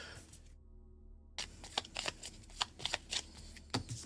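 Cards from the Alien: Fate of the Nostromo board game are shuffled back into a deck, a soft riffling and rustling that follows a short silence, close and fairly quiet.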